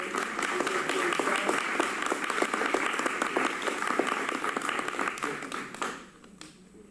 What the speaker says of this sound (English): please give a warm welcome and a round of applause for our 2021